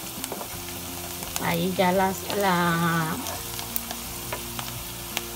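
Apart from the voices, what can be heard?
onions frying and browning in a pan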